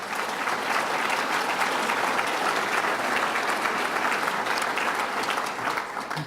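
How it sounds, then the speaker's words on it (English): A round of applause from attendees at a New York State Association of Counties meeting, dense and sustained clapping from a sizable crowd that holds at an even level for over six seconds. "Let's give him a round of applause for his good work."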